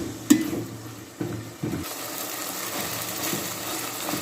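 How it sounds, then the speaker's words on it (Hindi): Mutton pieces for korma fry and sizzle in a pot while being stirred, with a steady hiss and a few sharp scrapes and knocks of the spoon against the metal. No one speaks. "माशाल्लाह मटन हमारा जो है वो फ्राई हो चुका है।"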